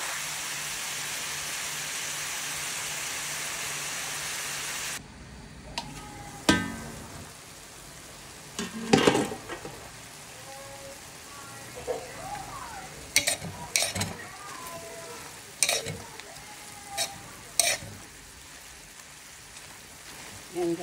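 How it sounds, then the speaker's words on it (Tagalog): Adobong kangkong with butter cooks in a pan. Sizzling and frying carry on under irregular stirring clatters and scrapes of a utensil, and a steady hiss fills the opening seconds. "lutuin natin mabuti ang ating adobong kangkong guys"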